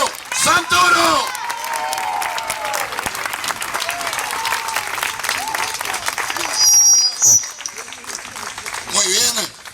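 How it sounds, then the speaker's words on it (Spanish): Crowd in Plaza San Martín applauding to welcome politician Leandro Santoro, a steady dense clapping wash lasting throughout, with cheers, whistles and shouts rising near the start and end. "El aplauso de la Plaza de San Martín para recibir a Leandro Santoro."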